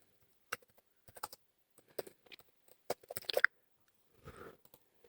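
Scattered keystrokes on a computer keyboard while filling in a company name, quiet and close, in irregular short bursts with gaps between them and no speech.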